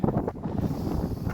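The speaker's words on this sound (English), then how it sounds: "It's just got very windy again" Wind gusting across the microphone in an open paddock being mowed, a close, low, uneven rumble that persists throughout.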